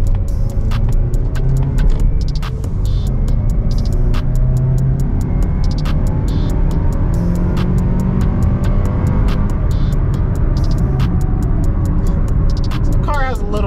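2020 Mazda CX-30 driving in sport mode, a steady low engine drone and road rumble heard from inside the cabin, with faint clicks and the occasional voice on top.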